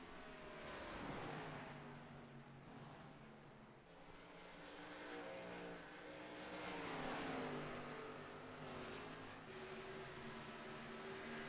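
Xfinity Series stock cars in a sim racing game at Iowa Speedway drone past at speed, engine notes rising and falling as cars sweep by, steady and fairly close with no talk.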